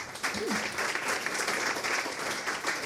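An audience at a biodiversity presentation applauds the presenter one final time, a brief, dense burst of many hands clapping at moderate volume, steady from start to finish.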